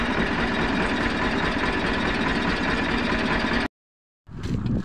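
A tractor engine runs loud and close with a dense, steady drone, cuts out abruptly for about half a second near the end, then resumes.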